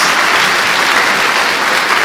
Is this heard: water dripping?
no